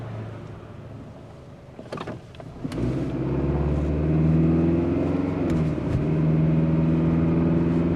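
A remanufactured car driven on a short ride, its engine note rising as it pulls away and shifting from second to third a little lumpily, a steady close cabin drone with no talk.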